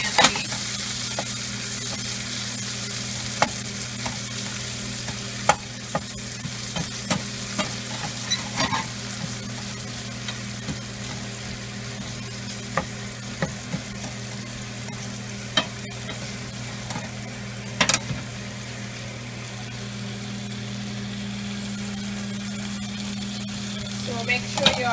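Onions sizzle steadily in a pan over medium heat for a fish curry, with scattered sharp clicks and scrapes of a spoon stirring them close by, no talking.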